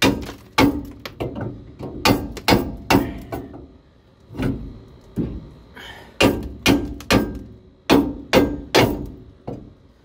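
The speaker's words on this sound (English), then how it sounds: "It's probably gonna need a hammer to get it off. So let's beat it off." Sharp metallic hammer blows on a rusted rear brake backing plate in irregular bursts, about fifteen strikes with short pauses between clusters, loud and close.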